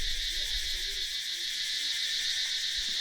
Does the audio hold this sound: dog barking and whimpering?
no